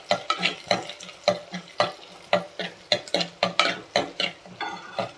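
Small onions and chopped garlic fry in a pan for a Tirunelveli-style fish curry, with rhythmic stirring scrapes repeating about twice a second over a steady close sizzle; no talking.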